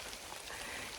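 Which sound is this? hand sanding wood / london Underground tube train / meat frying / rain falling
rain falling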